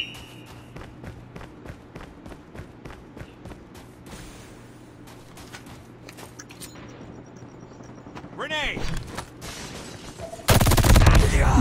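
Rapid bursts of gunfire from a fast-firing gun in the video game Call of Duty, sharp repeated shots in quick succession, followed by louder, denser blasts near the end.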